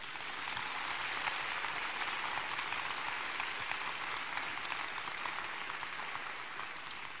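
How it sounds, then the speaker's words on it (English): A college commencement audience applauds its families in a sustained, dense wash of clapping that holds steady at a moderate distance from start to finish, with no speech over it. "Let us applaud them now."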